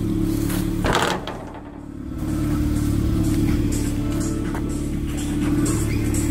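A car rolls into a Derby venue, its engine rumbling close and steady, briefly swelling and dipping before settling into a constant drone.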